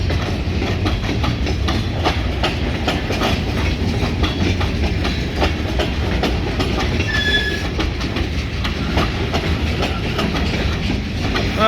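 A freight train of boxcars rolls past close by. A loud, continuous rumble carries rhythmic clickety-clack from the wheels and a brief metallic squeal partway through, with no talking.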